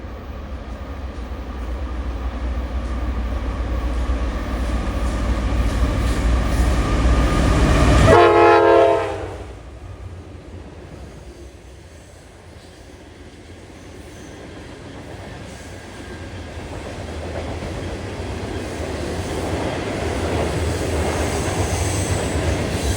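A Norfolk Southern loaded coal train led by AC 4466 locomotive rumbles past loudly at first, a horn-like tonal blast rising near eight seconds before the roar drops off, then wagons keep rolling and clattering at moderate level.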